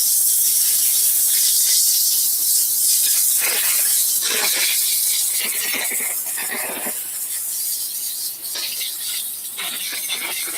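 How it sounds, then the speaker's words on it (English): A handheld steamer hisses as it is worked over suede shoes during cleaning. The broad, bright hiss runs the whole time and comes in uneven bursts and breaks as the nozzle is moved. "and then I'm gonna steam off the area as well"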